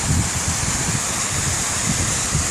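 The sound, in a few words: small waterfall on hiking trail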